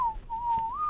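A single clear whistled tone from a player in the video game ARK: Scorched Earth, commanding tamed dinosaurs. It holds a steady pitch, dips briefly, then bends upward near the end over quiet background.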